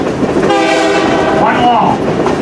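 A loud train horn sounds a sustained crossing signal over rumbling rail noise, close by, with a brief pitch shift near the end, on the Great Smoky Mountains Railroad.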